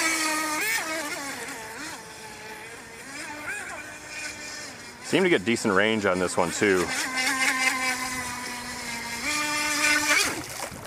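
A SkyTech H101 RC boat runs on water, its small electric motor giving a high, whining buzz that rises and falls with throttle and surges loudly in the middle, while someone talks over it nearby.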